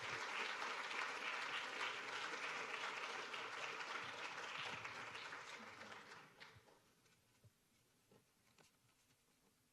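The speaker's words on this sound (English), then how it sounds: "just another round of applause on a great presentation" An audience at a product design senior presentation claps in a steady round of applause that holds for several seconds, then fades to a few scattered claps and quiet.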